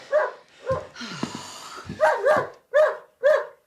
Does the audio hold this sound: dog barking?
yes